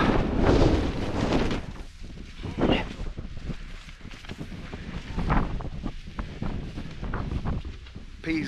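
Strong gusts batter a tent at a wild camp on a stormy hillside in the Cheviots, rushing and buffeting loudly and steadily close to the microphone, with surges near the start and again around the middle.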